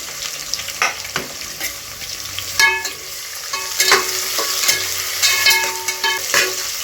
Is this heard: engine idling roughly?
no